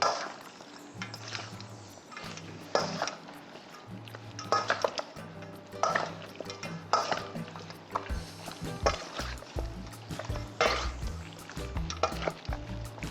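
Two eggs mixed into raw chicken wings in a bowl for Trini-style wings, giving irregular wet squelching and stirring with clinks of utensils against the bowl, near and moderately quiet.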